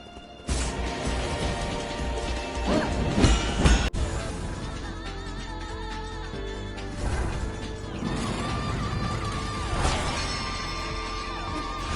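Nine Sols video game combat: a dense run of enemy hits, crashes and a crate shattering, with sharp impacts around three to four seconds, all layered over a continuous loud backing.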